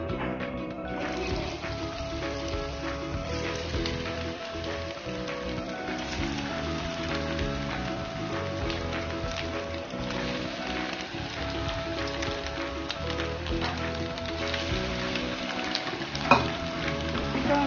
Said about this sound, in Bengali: এটা আমি গ্যাস ফ্লেমটা লোতে দিয়ে 1 থেকে 2 মিনিট করে একটু ভেজে নেব।